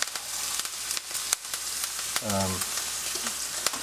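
Steak sears in a hot pan with a few sprigs of thyme, a steady close sizzle throughout with a brief louder crackle midway.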